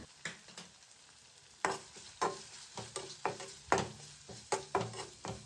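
Curry leaves, turmeric and chili powder fry in a pan for curry leaf rice, with a series of distinct scraping stir strokes over a soft background sizzle, fairly quiet and close.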